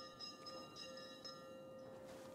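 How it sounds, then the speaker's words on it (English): Bell chimes in the video game Dying Light 2, a repeating ring of sustained, tonal strikes about every half second over a steady low game ambience, fairly faint. "what are you ringing the bell for?"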